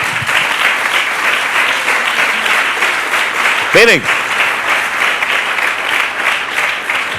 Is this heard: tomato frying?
no